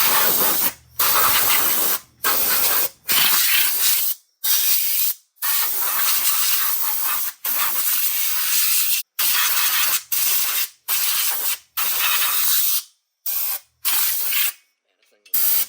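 Brake cleaner sprayed from an aerosol can onto the clutches of a Polaris RZR, a loud series of hissing bursts, each a second or so long, separated by short pauses.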